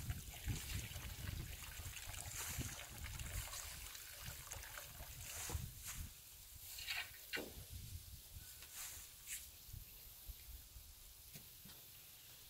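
Water trickles and drains steadily from a freshly built batch pile, a continuous close wet dribble and splash running the whole time with occasional louder spatters.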